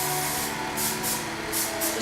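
A few short hissing bursts from an aerosol cooking spray can greasing a pan for gluten-free banana bread, close by, separated by brief pauses.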